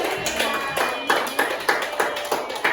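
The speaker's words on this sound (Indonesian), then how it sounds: "Kita kasih tepuk tangan dulu buat dia." A small classroom group claps for a student during a practice lesson, a loose scatter of hand claps with a few sharper individual hits standing out, moderately quiet and close.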